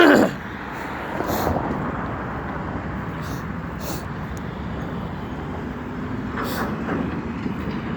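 A train working in a rail yard near a crossing, a steady low rumble with faint wheel clatter and a few brief high squeals, heard at moderate distance under outdoor ambience.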